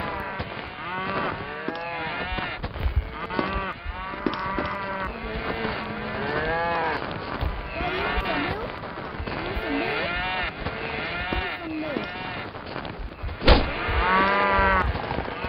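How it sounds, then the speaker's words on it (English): A cow in the video game Mini Block Craft moos after being hit. It gives a long string of repeated, loud mooing calls, one after another, with barely a break for the whole stretch. "I should not have hit the cow."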